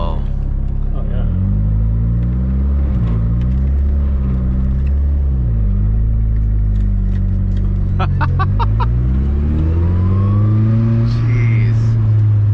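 A 1970 Datsun 240Z with an SR20DET engine accelerating hard, its loud, close, deep engine note climbing through several rising sweeps with gear changes, with turbo whooshes and faint voices underneath.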